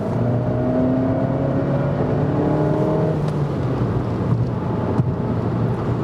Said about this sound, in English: And some more acceleration when we have the roof closed.